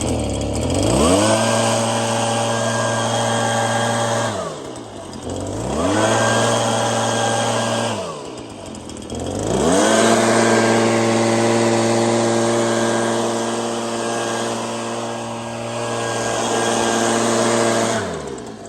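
A motorized blower clearing thick pine needles from a roof gutter revs up in three long bursts, its steady whining drone holding between dips as the engine throttles down, loud and close.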